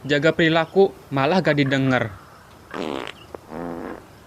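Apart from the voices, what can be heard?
fart in an animated film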